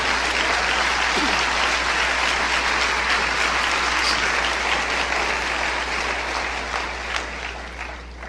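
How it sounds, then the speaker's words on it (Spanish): A church congregation applauds loudly during a sermon, dense sustained clapping that fills the room and fades slightly toward the end. "Si va a aplaudir, aplaude fuerte."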